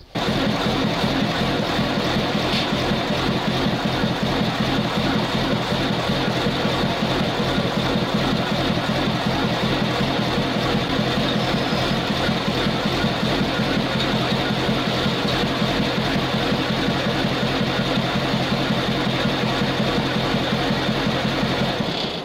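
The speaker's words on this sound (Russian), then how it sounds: "Ладно, сейчас запустим мотор." A ZIL truck engine, the off-road 'Submariner' build, runs at a steady, even idle throughout. It is close and loud, with a constant rhythmic mechanical chatter and no voices.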